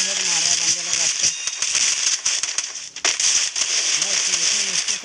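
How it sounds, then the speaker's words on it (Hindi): Rapid gunfire bursts from a shooting video game crackle in quick succession, loud and close, with someone talking excitedly over the shots. "मैं इतनी मुश्किल से गन पॉइंट शूट कर रहा हूँ"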